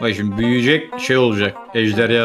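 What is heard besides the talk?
No everyday noises stand out.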